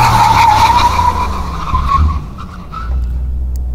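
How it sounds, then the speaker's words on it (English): A Mercedes-AMG car brakes hard from speed on a test track, its tires skidding with a loud, sustained squeal that fades as the car slows to a stop. "And now full brake."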